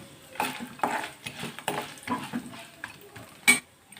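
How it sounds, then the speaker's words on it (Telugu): Urad dal, chana dal and cashews fry in oil in a pan while a spoon stirs them, making soft, uneven scraping strokes over a faint, quiet sizzle, close by and with no talking. "ఒక స్పూన్ మినప్పప్పు వీటిని కాస్త వేగనివ్వాలి"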